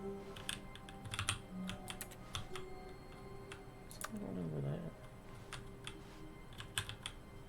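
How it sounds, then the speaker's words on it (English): A keyboard types as a sound effect in The Stanley Parable video game, with steady, scattered key clicks running throughout and a brief tonal sweep in the middle. "It's the sound of him at his computer,"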